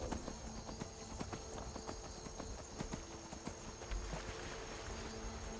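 Horse hooves clip-clopping in Skyrim while riding near a river gorge, a steady fairly quiet trot of repeated hoofbeats over a soft ambient background with flowing water.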